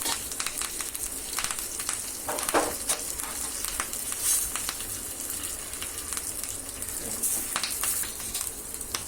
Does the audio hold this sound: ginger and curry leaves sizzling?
yes